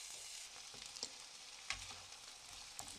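Washed, salted rice frying in oil in a pan for maqluba gives a steady, close sizzling hiss with a few small crackles and pops, heard alone without any talking.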